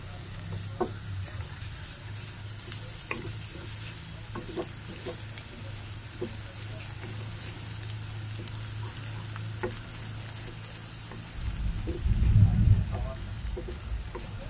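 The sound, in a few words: garlic sautéing in a pan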